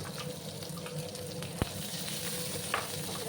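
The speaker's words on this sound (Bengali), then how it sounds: "দুটো পেঁয়াজ কুচি করে রাখছিলাম, সেই পেঁয়াজ কুচিগুলো দিয়ে দিলাম" Chopped onions fry in spiced oil in a pan for til bhindi, with a continuous hissing sizzle and one sharp knock of a utensil partway through.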